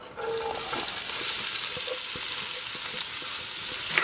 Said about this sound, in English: Just gonna cook these veg for probably like 3 or 4 minutes just to soften them up